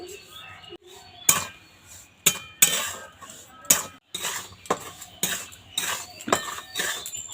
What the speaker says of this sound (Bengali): লবণটা হালকা একটু ভেজে নেব